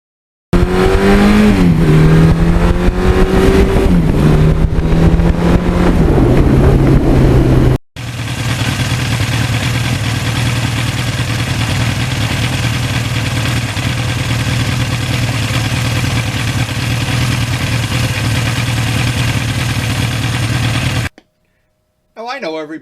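A 1982 Suzuki GS1100E motorcycle engine rumbles at low revs, its pitch rising and falling, then settles into a steady drone with wind rushing past.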